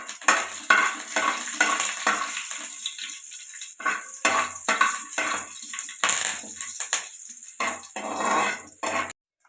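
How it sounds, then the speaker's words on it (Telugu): Tempering spices, curry leaves, cumin and broken dried red chillies hit hot oil and crackle in a pan, with bursts of sizzling and stirring scrapes in uneven pulses before the sound cuts off. "ఆయిల్ హీట్ అయింది. ఈ తాలింపు దినుసులన్నీ ఇందులో వేస్తున్నాను."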